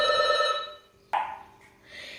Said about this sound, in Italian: o suona il cellulare o il citofono, insomma, ogni volta che uno fa una ripresa